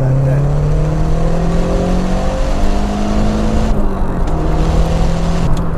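Rally car engine, a Lancia Delta HF Integrale Evoluzione or Ford Sierra Cosworth 4x4, revving and accelerating through the gears with rising and falling tones, loud and close under road noise, with voices talking over it.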